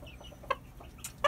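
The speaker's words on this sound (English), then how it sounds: "This is a 10-month-old cockerel from my secondary line of silver spangleds." A ten-month-old silver spangled Hamburg cockerel gives a few short, soft clucks, close and quiet with no talk.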